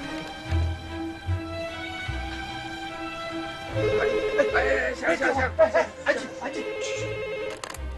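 A telephone rings in a room where a group waits for a call, its trilling tone sounding in short bursts beneath people talking nearby.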